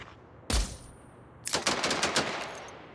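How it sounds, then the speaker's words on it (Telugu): Video game gunfire in an online gangster city game, opening with one sharp loud shot, then after a pause a fast, close burst of automatic fire that tapers off. "ఫైరింగ్లు కూడా క్రేజీ ఉన్నాయన్నమాట."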